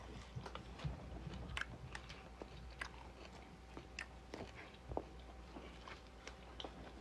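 Close-up chewing of kale with cabbage and beans, soft wet mouth sounds with scattered crunchy bites at an uneven pace, quiet and near.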